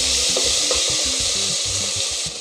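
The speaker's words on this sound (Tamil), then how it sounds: "இப்போது சின்ன வெங்காயம் சேர்த்துக்கோங்க" Shallots sautéing in a pan with garlic for Ramadan nonbu kanji, a continuous hiss of frying with rhythmic rubbing, scraping strokes of a spoon throughout.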